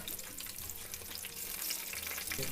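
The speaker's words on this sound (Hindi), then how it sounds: "डालकर फ्राई करने हैं" Eggplant pieces frying in about half a litre of hot oil in a non-stick pan over medium-high heat, giving a steady, close, moderately loud sizzle and crackle throughout, with no talking.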